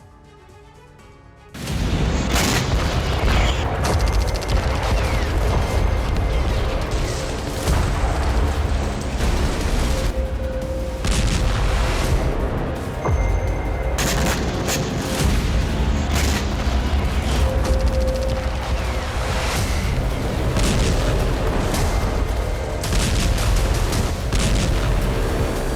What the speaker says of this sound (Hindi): धमाकों से कांपती जमीन का वो हिस्सा जहां हर कदम पर मौत का खतरा है